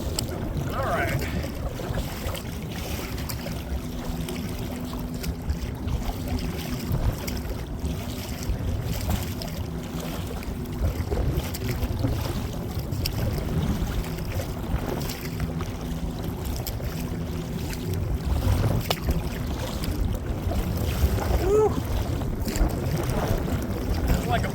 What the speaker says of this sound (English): a big old diesel fishing boat coming in from Smith Point right now